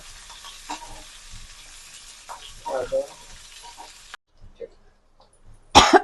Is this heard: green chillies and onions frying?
yes